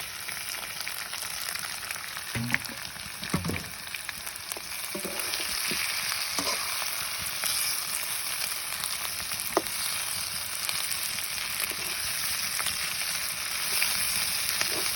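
Fish frying in oil in a pan after onions were browned, a long continuous sizzling hiss that swells louder partway through, with occasional soft pops and utensil taps nearby.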